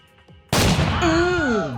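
A single loud, sharp shotgun blast in the Roblox game Buckshot Showdown bursts out after a quiet moment, followed by a ringing, wavering tone as it fades.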